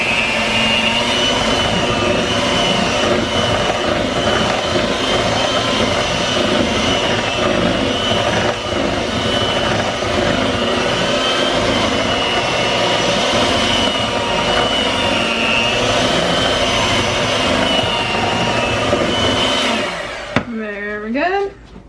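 Electric mixer blending enchilada filling, a steady loud whir with a buzzing motor tone running continuously for about twenty seconds, then cutting off with a brief pitch sweep at the end.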